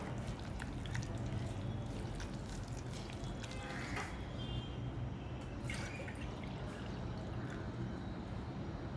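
Water poured from a vessel into thick jowar dosa batter, a steady close trickle and drip over a continuous low kitchen background, with no talk.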